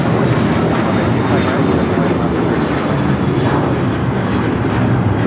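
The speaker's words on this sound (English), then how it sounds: "This is American Airlines 2656 taking off to Los Cabos on the 737-800." An American Airlines Boeing 737-800 takes off from LAX bound for Los Cabos, a loud, continuous jet roar close by, dense and unbroken, with wind buffeting the microphone.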